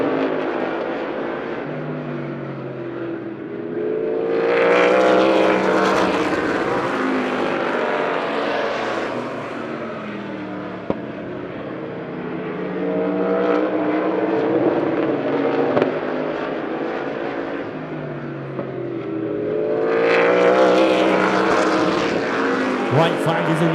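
Race cars in a heat race at Lebanon I-44 Speedway roar past in two loud surges, rising and falling engine whines sweeping close and fading away, with an announcer calling the race over the noise.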